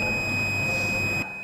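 A flame sensor fire detector's buzzer sounds as one steady high-pitched electronic tone, loud and continuous for over a second before cutting off abruptly, with a low hum underneath.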